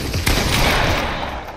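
A shotgun fires in the video game Fortnite, a single loud broadband blast near the start that rolls into a dense, sustained crackling roar of gunfire noise.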